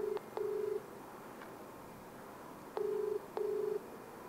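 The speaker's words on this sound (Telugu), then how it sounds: "ఇంకొకసారి సునీల్కి ఫోన్ చేద్దాం" Phone call being dialed: a few short electronic tones sound at the start, a pause follows, then two more tones near the end, faint and close, with no talking.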